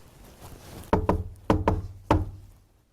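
Five sharp knocks on a hard surface, spaced in small groups (two close together, two close together, then one), each with a short resonant thud, alone and fairly close.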